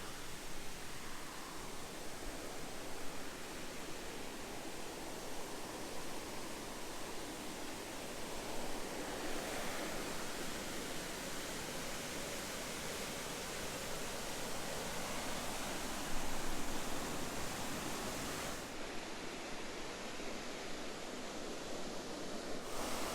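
Rainbow Falls on the Black River in Ottawa National Forest, Michigan, roars steadily and loudly throughout, a dense unbroken rush of falling water with no voices.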